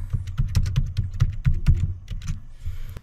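Rapid keystrokes on a computer keyboard, close and clear, tapping in an uneven quick rhythm with a short pause near the end, no voices.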